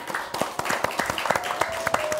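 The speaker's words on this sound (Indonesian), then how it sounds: "kita tepuk tangan dulu kita dong." An audience applauds at a Madura-themed gathering with scattered, fairly faint handclaps that stay steady for a couple of seconds.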